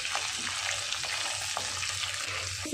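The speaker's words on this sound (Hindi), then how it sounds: "इसे फिर 1 मिनट के लिए भूनेंगे।" Dried coconut, peanuts and garlic roasting in a pan, a steady close sizzle with soft stirring scrapes throughout and no voices.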